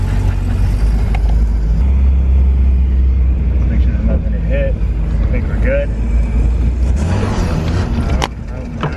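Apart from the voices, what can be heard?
Mazda Miata engine with header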